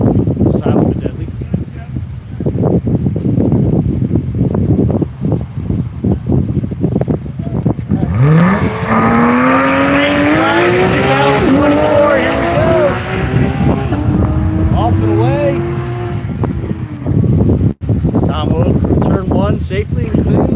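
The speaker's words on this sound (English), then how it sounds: "It should be fun watching that Porsche get ready to go and see everybody take off." Race cars, including a Porsche, launch from the start line at a track: rising engine whines and revs climb and sweep past under steady wind noise, fairly loud, while a commentator talks throughout.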